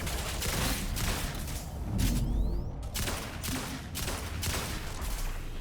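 Rapid gunfire in the shooter game Lawbreakers, dense bursts of repeated shots with booming low impacts, loud and continuous with no speech.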